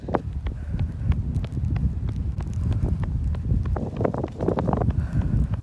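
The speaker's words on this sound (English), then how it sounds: "I don't think I've run in like such a strong wind like this." Strong wind buffets the microphone during an outdoor run, a rough, gusting roar that stays loud throughout, with the thud of footsteps under it.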